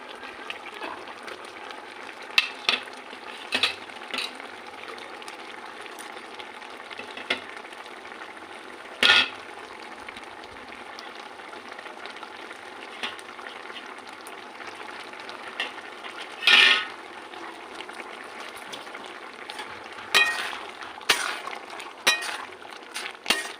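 Mango leather being stirred into tomato chutney as it fries in a pan, giving a steady soft sizzle broken by several brief louder scraping and stirring bursts, with no voices.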